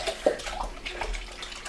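Liquid poured into a mixing bowl for Belgian waffle batter, a faint, soft splashing and trickling with a few small plops, quiet and close, with no talking.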